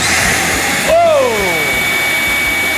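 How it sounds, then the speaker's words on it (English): A vacuum cleaner runs loudly and steadily throughout, with a brief swell and a falling whine as the airflow changes, set up to pull air through a pillowcase. "Turn the vacuum on."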